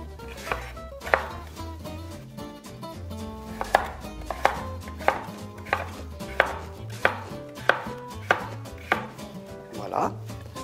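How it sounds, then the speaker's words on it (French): Kitchen knife roughly chopping a carrot on a cutting board, a series of about a dozen sharp, close knocks at an uneven, unhurried pace, with no one talking. "nous allons commencer par couper la carotte grossièrement"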